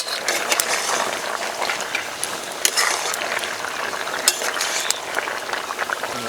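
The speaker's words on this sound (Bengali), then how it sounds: "এবার ভেজে রাখা আলু মুড়ো দিয়ে দেব।" Fried potatoes and a carp head go into a gourd curry simmering in a pan, giving a close, continuous crackling bubble dotted with rapid clicking ticks and no talking.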